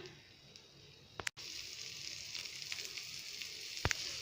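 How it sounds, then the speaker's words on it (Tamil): Oil sizzling on a coriander dosa topped with onion on a hot pan: a soft, even hiss running throughout at low level, broken by a couple of brief clicks, with no voices. "கொஞ்சம் வெங்காயம் மல்லித்தலை போட்டுட்டு கொஞ்சம் எண்ணெய் ஊற்றிக்கலாம்"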